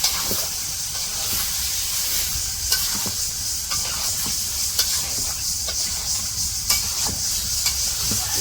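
Chicken pieces sauté in a pan with spices, a steady bright sizzle running throughout while a spoon scrapes and stirs at intervals, with sharp clinks of utensil against the pan standing out close by.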